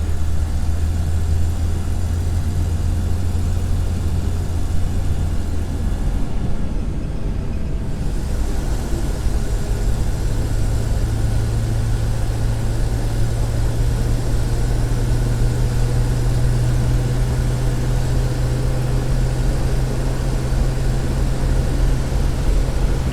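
A 1964 Chevy Nova V8 idles steadily with a low, continuous hum, close and even for over twenty seconds, briefly dipping in the middle before settling at a slightly higher idle.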